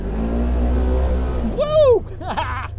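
A Polaris General UTV engine revs hard up a gravel hill, a strong low drone building, then rising and falling whines as it accelerates and shifts, loud and close, with voices over it near the end.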